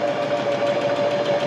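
A domestic sewing machine stitches a length of skirt fabric, giving a steady, fast mechanical whir with a constant tonal hum, close and continuous with no talk.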